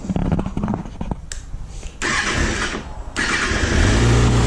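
A motorcycle with its stock exhaust cranks over and catches, a few sputtering attempts followed by a bursting start and steady, moderately loud idle that settles in at the end.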